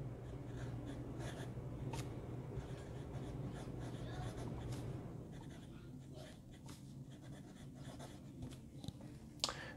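A Gama Jumbo acrylic fountain pen with a Goulet extra fine nib scratches quietly across paper in short strokes, faint and close over a low background hum.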